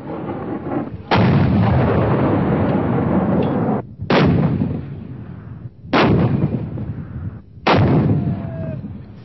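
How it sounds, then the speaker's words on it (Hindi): Bofors artillery guns shelling the Tololing peak: four heavy, close booms, each with a long rumbling decay, spaced about two seconds apart, with no talk. "तकरीबन 120 बोफोर्स तोपें कई घंटों से तोलोलिंग की चोटी पर आग के गोले बरसा रही थी।"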